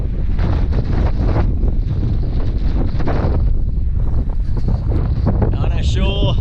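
Strong, gusty gale-force wind roars and buffets the microphone continuously on an Alaska Peninsula shore, with rushing water underneath and a brief higher tone near the end.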